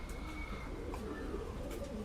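Pigeons coo softly and steadily in a loft of Bengal fighter pigeons, a faint low murmur running through the whole stretch with no one speaking.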